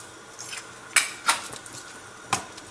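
A spatula clinks and scrapes against a pan while onions and vegetables are stirred as they sauté, giving a few sharp metallic taps spaced apart over a low background.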